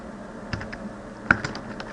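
Keys clack on a computer keyboard as C++ code is typed, a handful of separate close keystrokes over two seconds with one louder tap, against quiet room hum.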